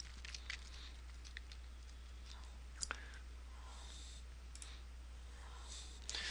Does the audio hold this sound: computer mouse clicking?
yes